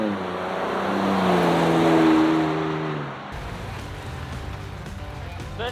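A Ford Ranger Raptor engine revs up as the truck takes off, a rising and falling engine note that then drops to a lower, quieter drone.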